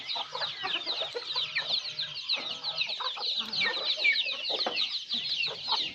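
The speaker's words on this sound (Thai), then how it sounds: "เนี่ยครับไก่หน่อยที่เขาไปกินได้ เพราะว่าไก่ใหญ่ก็อยู่บริเวณข้างนอกห้ามเขาข้างใน" Chickens on a farm cluck steadily while feeding, a dense chorus of overlapping clucks and chatter close by with no talking.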